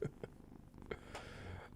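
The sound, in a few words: cat purring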